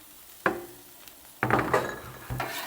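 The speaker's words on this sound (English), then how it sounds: "I'm going to go ahead and put the onions on and get those going" Onions go onto a hot flat-top griddle and get mixed with a metal spatula, three separate bursts of scraping and clanking with brief sizzle, close and distinct against a quiet background.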